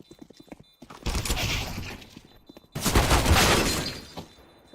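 Gunfire in a Counter-Strike match: a few light clicks lead into two sustained, loud bursts of rapid shots separated by a short pause, close and dense, then trailing off.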